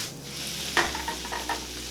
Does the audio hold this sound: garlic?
yes